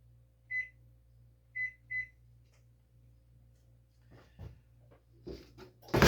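A microwave oven melting butter gives three clear electronic beeps, then quiet, followed by a door opening and clattering handling sounds close by.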